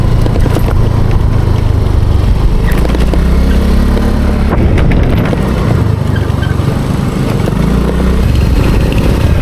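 A motorcycle ridden over a rough, potholed road toward a hill view deck, its engine droning loudly and continuously with rattling jolts, close to the rider, with no talk heard.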